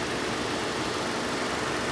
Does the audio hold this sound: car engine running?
yes